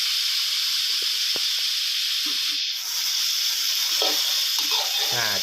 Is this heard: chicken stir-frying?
yes